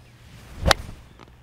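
A golf club swings through and strikes the ball squarely in the center of the face, giving one sharp, crisp crack with a brief swish around it. The shot is close and stands alone in quiet surroundings.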